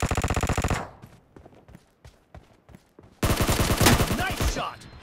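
Automatic weapons fire in a PUBG Mobile team deathmatch on the Warehouse map. Two loud, rapid bursts are separated by a stretch of scattered single shots, some near and some more distant.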